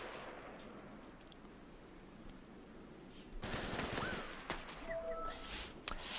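Gunfire in the tactical shooter game Affected Zone Tactics: a dense run of shots starting a few seconds in, moderately loud against a quiet background, with a sharper single crack near the end.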